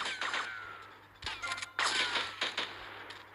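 Gunfire in the video game GTA Vice City, several sharp bursts of shots in quick succession with gaps between, moderately loud, mixed with game sound effects.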